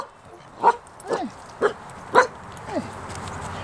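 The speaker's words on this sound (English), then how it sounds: "Hey. Hey. Those are good dogs." Several dogs bark at a house near a golf course, about five sharp barks spaced across a few seconds, fairly close and loud against quiet outdoor background with no talk.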